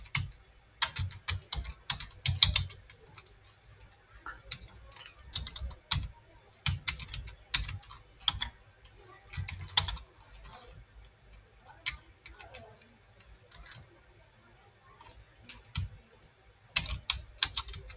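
Fingers typing an SQL query on a computer keyboard, irregular close clicks and tapping bursts separated by quiet gaps, no one speaking.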